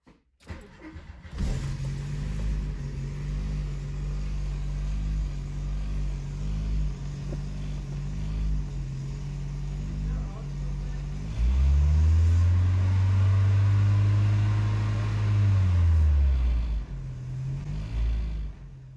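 A VW Cabriolet engine, just fitted with a new oil pump, cranks and catches, then settles into a steady idle. Later it is revved hard for a few seconds before dropping back to idle. The sound is close and loud.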